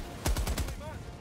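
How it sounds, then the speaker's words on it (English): An assault rifle in the Helldivers 2 video game fires a quick burst of four close, sharp shots in rapid succession, then fades into a brief ringing tail. "That new assault rifle."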